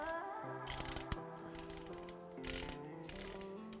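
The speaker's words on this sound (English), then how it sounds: "the original aperture ring on these lenses, as you can probably hear, is very clicky, and it clicks in between all of the different stops" Aperture ring on a Canon FD lens turned by hand, a series of small distinct mechanical clicks in quick bursts at close range over quiet background music, with no talking.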